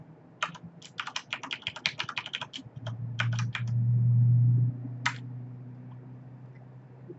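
A password is typed on a computer keyboard in rapid bursts of crisp keystrokes, followed by a pause and one last isolated key press, with a low hum running underneath.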